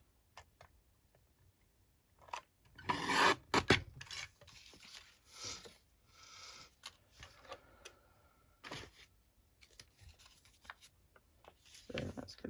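Scissors cutting paper in half for a craft journal pocket, close and quiet, with bursts of rasping snips and rustles separated by short pauses.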